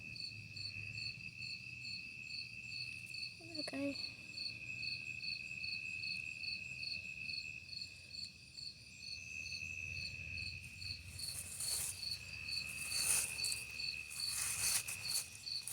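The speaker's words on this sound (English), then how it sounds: "That's one big cricket." A big cricket chirps in a yard in fast, steady repeating pulses that run throughout. A brief voice cuts in once, and faint rustling comes in near the end.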